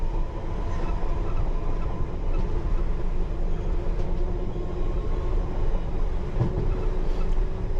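A London Underground Piccadilly line train runs between Northfields and Earls Court via the Heathrow Terminal 4 loop, heard from on board as a steady, loud rumble with a sustained low drone and faint rail clatter throughout.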